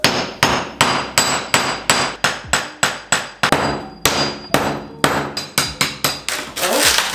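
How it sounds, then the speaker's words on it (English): Sharp, hard strikes of a chisel prying up bathroom floor tiles repeat in a steady rhythm, about two a second, each with a brief ringing decay, close and loud, with no voices. "The trick here is to use a chisel flat against the floor and then use that leverage to lift the tile"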